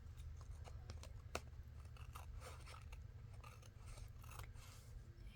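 Close, quiet snips of scissors trimming a paper tag pocket's corners, a string of short crisp cuts and rasps over a steady low background hum.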